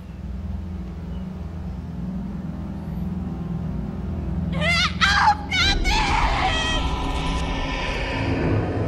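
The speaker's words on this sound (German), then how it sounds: "Verdammt, noch ein Schrei, der uns in die Knie zwingt." A shrill, wavering scream in Murdered: Soul Suspect rises over a low game rumble, loud and lasting a couple of seconds before fading into the background drone.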